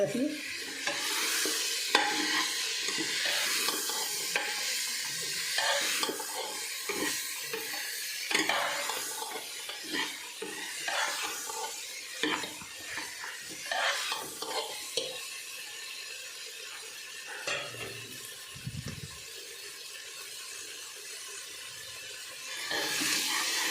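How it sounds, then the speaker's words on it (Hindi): Peas frying in a pan with rice and potato for a salted paneer pulao, a steady sizzle broken by repeated stirring scrapes and clinks, close and fairly loud, with no talking. "मटर फ्राई कर लें"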